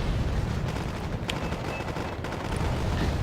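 Battle sounds from the real-time strategy game Wargame AirLand Battle: dense continuous gunfire and bombing with rumbling explosions, a crackling barrage filling the whole stretch at moderate loudness.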